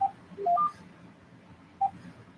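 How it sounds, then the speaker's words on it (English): Keypad key tones from an AT&T EL52119 phone while an area code is dialed: a quick cluster of four short beeps of varying pitch, then a pause and one more single beep, clear and close. "Key tone"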